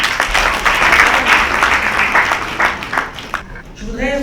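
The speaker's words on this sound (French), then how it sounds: "Merci d'applaudir" An audience claps at the launch of a women leaders' network chapter in Mali, a burst of dense applause that thins and fades over a few seconds as a voice begins speaking near the end.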